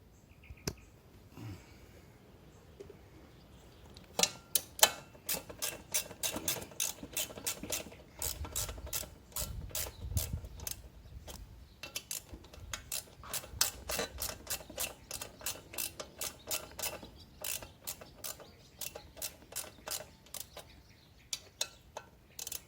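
Ratchet wrench tightening bolts while raising the front fender on an Ice Bear Champion, a long series of close, quick metallic clicks in bursts with short pauses, fairly quiet and without talk.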